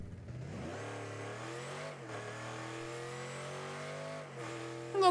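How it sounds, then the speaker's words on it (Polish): A Batmobile car engine in Rocket League revs steadily with rising and falling pitch, a smooth synthetic whine, shifting gears twice, with no voices. "dźwięk silnika"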